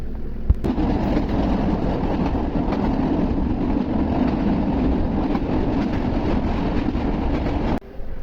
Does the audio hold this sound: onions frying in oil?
no